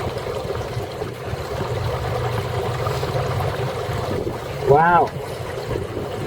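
A boat holding tank pumpout runs with a steady low churning hum and rushing flow, under wind noise, with a brief spoken exclamation and a rising whine near the end.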